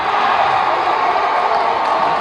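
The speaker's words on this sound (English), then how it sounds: "The crowd going crazy" Steady roar of a crowd at a high school boys' basketball game, loud and continuous throughout with no clear breaks.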